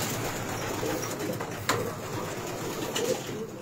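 Racing pigeons in a loft coo softly among a continuous rustle and background hiss, with a couple of brief sharper sounds, fairly near the microphone.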